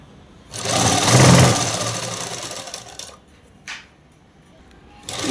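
A sewing machine stitches the lining of a French cut dress in a loud, close whirring run of about two and a half seconds, followed by a brief short burst and another start at the end.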